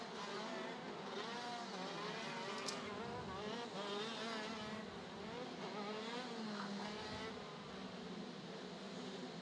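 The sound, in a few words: 125cc KZ2 kart engines racing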